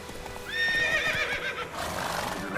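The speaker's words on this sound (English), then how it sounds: "Ah già, che questo è un cavallo fighetto, non è come quello di Skyrim." Roach, the horse in The Witcher 3, gives a clear, fairly close neigh, followed by a steady clip-clop of hooves under faint background ambience.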